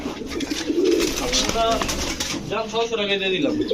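Pigeons coo steadily at a busy pigeon market selling Budapest, Teddy, Kamargar, Golla, Chila and Gorra breeds, their throaty calls layered under nearby crowd chatter and a vendor's voice.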